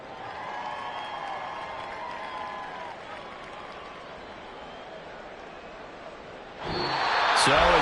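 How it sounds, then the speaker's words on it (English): A home crowd applauds in a stadium after a Green Bay football victory, a broad, distant wash of clapping and cheers under a commentator's voice, swelling louder in the final seconds. "And the home crowd applauding."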